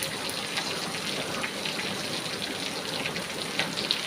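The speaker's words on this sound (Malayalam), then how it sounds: "നല്ല മഴയാണ്" Steady rain pouring down, a dense even hiss with occasional heavier drips and splashes, continuous and fairly loud, no voices.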